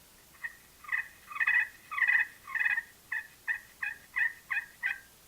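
Turkey friction call made with a carbon striker on a slate: a series of about ten raspy, yelping notes, the first few longer and joined, the rest short and evenly spaced, close and fairly quiet with no talking.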